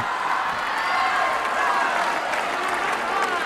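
Tennis crowd at the 2008 US Open semifinal with Nadal, a dense wash of applause and vocal cheering that holds steady throughout.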